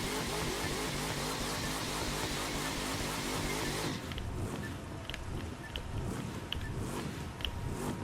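A C7 Corvette Stingray dragster in The Crew 2 roars through a loud, sustained burnout, its dense engine and tire noise dropping off about halfway into a rougher, lower rumble with scattered sharp bursts.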